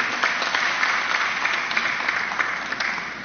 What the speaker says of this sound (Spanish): No sin antes pedir un fuerte aplauso para cada uno de los presentes